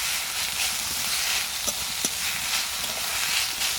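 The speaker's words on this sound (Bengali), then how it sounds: "এবার আমি এর মধ্যে দিয়ে দিচ্ছি গ্রেট করে রাখা আলু আলুটা আমি এইভাবে এক মিনিটের মতো খুব ভালো করে একটু নাড়াচাড়া করে নেব" Grated potato fries in a pan under a dense, even sizzle, close and fairly loud. Faint scrapes and taps mark the stirring, and nobody talks.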